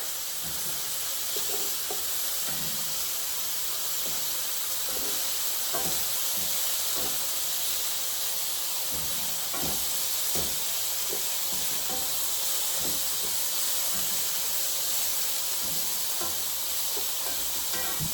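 Chicken breasts and mushrooms sizzle steadily in a hot skillet, a continuous frying hiss with scattered crackles and pops, close and even throughout with no talking.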